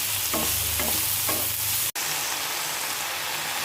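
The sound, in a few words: washed greens added to frying eggplant in a pan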